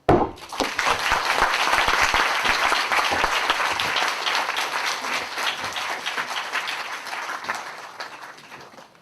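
A lecture hall audience gives sustained applause at the end of a retirement farewell lecture in history education, dense clapping starting abruptly, holding strong, then slowly thinning out.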